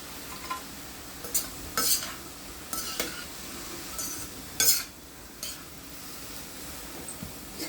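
Vegetables and spring onions stir-frying in oil for loaded chicken noodles, with a steady low sizzle under repeated scraping and clinking strokes of a spatula against the pan, moderately close.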